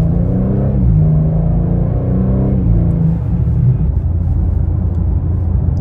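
A 2023 BMW M2 G87 pulls away from a stop and is kept under 4,000 RPM. Its engine rumble is loud and steady throughout and rises in pitch as it accelerates, with no one speaking.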